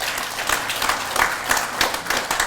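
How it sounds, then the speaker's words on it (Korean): Members of a Rotary club audience applaud together in a meeting hall, a loud, dense burst of clapping with uneven surges that carries on steadily without a break. "우리 자부심 있게 박수 한번 부탁드리겠습니다."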